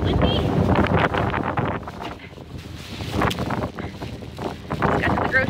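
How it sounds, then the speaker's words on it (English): Gusty outdoor wind buffets the microphone with a steady low rumble that eases briefly and then surges again, with a few faint higher rustles on top. "Oof, it's windy."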